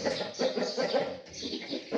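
A rooster clucks in a quick, continuous series of low, throaty calls, close by and moderately quiet, with no talking over it.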